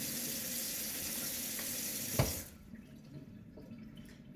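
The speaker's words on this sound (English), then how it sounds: "That's why I wash my fruit." Tap water runs into a sink while fruit is washed, a steady close splashing that cuts off partway through. Faint handling noises follow in the quiet.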